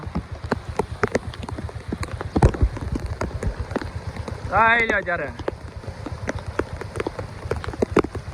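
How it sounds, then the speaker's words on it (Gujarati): Heavy rain pours over a village during the second round of monsoon rain, a dense, steady patter close by, while someone talks over it. "બીજો રાઉન્ડ છે વરસાદનો"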